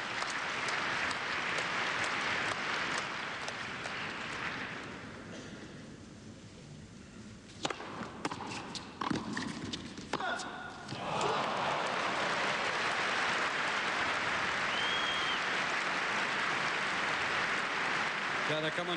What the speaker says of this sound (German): Kann man nur staunen und Beifall klatschen.